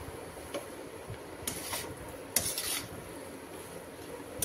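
Spiced jackfruit and shrimp curry stirred and fried in a pan, with soft scraping and a few metal clinks of a spoon at quiet, irregular intervals under faint background hiss.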